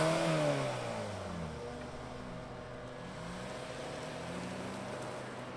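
A 2024 Kia Sorento S, a midsize three-row SUV, running at idle with a quiet smooth engine hum that swells briefly in a couple of gentle revs, heard alone without talk.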